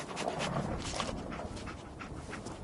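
Dogmeat, a dog companion in Fallout 4, panting steadily and close up in rapid breathy puffs, with soft whimpering and low background game ambience throughout.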